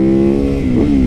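Supermoto motorcycle pulling hard off the line, a loud, close engine note with steady harmonics that rise and strain through the acceleration, heard alone without voices.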